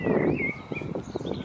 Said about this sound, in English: Blackbirds, lovely blackbird sound.